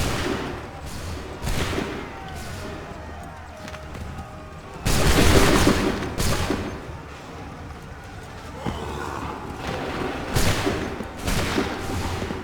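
Musket volleys ring out in Assassin's Creed 3 Remastered, several broad bursts of gunfire repeating at irregular intervals. The heaviest volley lands near the middle. Shouted voices and battle noise continue underneath.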